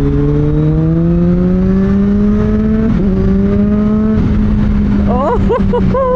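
A 2024 Kawasaki ZH2 motorcycle accelerates hard and loud, its engine note climbing steadily through the gears with a brief shift dip near the middle, while someone talks excitedly over it toward the end.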